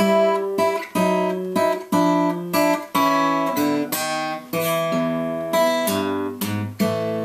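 Acoustic guitar plucks a blues turnaround on the top two strings with bass notes stepping downward, steady rhythm, close and clear with no talking.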